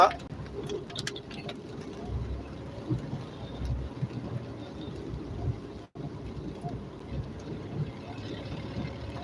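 Steady rain and road noise hiss around a car on a night drive, a continuous wash with a low engine rumble beneath, and a voice speaks over it.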